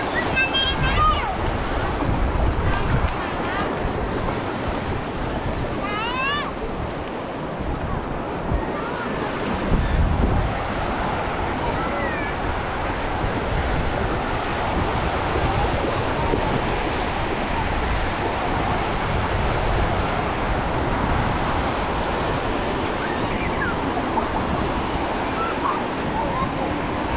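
Sea waves wash onto the beach at Cha-am, a broad continuous surf roar with wind noise, while voices and a dog's whimpers and barks come through.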